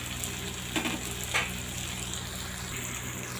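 Onions fry in a pan until browned, giving a steady close sizzle with a couple of brief stirring scrapes near the start.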